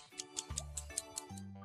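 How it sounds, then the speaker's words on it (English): A clock ticks in a kids' number-counting video game, with quick, even ticks about five per second over a soft tonal music bed. "Why isn't the clock ticking?"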